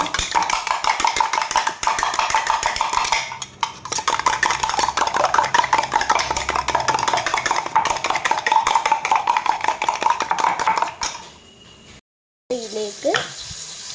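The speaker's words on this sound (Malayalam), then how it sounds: "നമുക്കിത് മിക്സ് ചെയ്യാം." Food being mixed in a bowl during cooking, a long run of rapid, continuous scraping and clattering that is fairly loud and close, with a brief quiet break near the end before a short faint voice.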